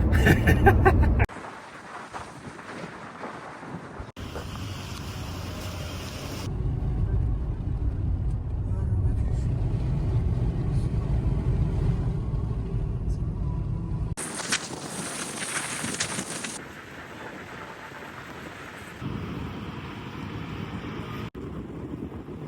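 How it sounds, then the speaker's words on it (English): A car drives through the Iranian countryside, its steady broadband road and engine rumble joined by gusty wind buffeting the microphone in loud stretches, with people talking inside the car. "So now we're driving around in circles in the Iranian countryside"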